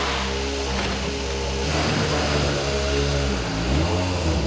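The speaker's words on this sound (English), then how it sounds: "So all the three cars are going now on the way to the shakedown, finally." WRC rally cars pulling away toward the shakedown, engines revving and accelerating close by, with rising pitch sweeps as the cars drive off one after another.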